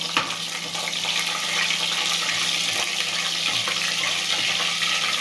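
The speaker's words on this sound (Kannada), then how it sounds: "ನೆಕ್ಸ್ಟ್ ಚಿಲ್ಲಿ ಹಾಕೊತಾ ಇದ್ದೀನಿ" Green chillies dropped into hot oil in a pressure cooker give a steady, close, loud sizzle and crackle of frying that runs without pause throughout, with no voices.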